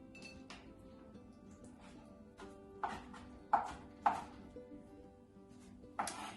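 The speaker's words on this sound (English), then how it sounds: "we're going to give this a rough chop" A knife rough-chopping a large pile of basil leaves, heard as a handful of sharp, separate knocks on a board, spaced irregularly over a quiet background.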